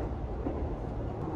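Low, steady rumble of the Aoniyoshi limited express train running along the rails from Kyoto toward Nara, a continuous rolling drone with no voices.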